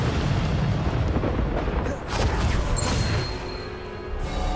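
A Bombarda spell detonates during a boss-fight trial in the video game Hogwarts Legacy, with a heavy explosive roar followed by a second crashing boom and a sustained rumbling debris wash.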